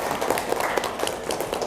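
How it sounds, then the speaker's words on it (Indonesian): A class of students applauds together after top scorers are announced, a steady patter of many hands clapping at moderate volume for under two seconds with no voices over it. "tepuk tangan ya untuk kita semua"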